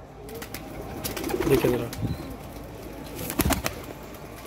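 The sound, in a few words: pigeons cooing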